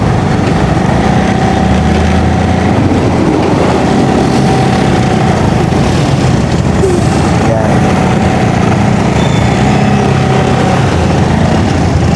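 Steady road traffic with trucks and engines droning loudly and continuously, with brief voices in the background.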